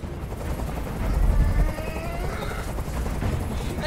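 A helicopter in the video game Detroit: Become Human drones and rumbles, with low thumping rising around the middle and then fading to a steady roar, loud and close, with no voices.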